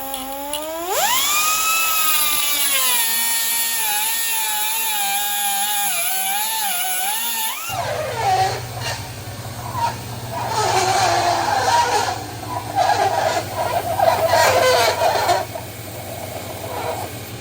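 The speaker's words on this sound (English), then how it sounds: "belt sanding the bottom bezel of our steering wheel" A loud rising whine settles into a wavering high drone, then gives way to harsh, gritty abrasive grinding with a low hum, close and continuous, as a belt sander sands the bottom bezel of a Scania truck steering wheel.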